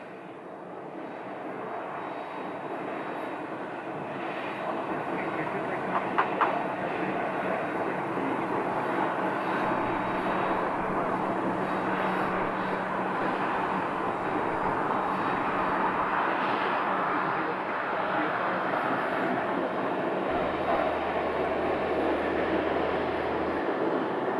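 An airliner arriving from San Diego lands at Scottsdale airport, its jet engines making a loud, steady roar that holds without a break for the whole stretch.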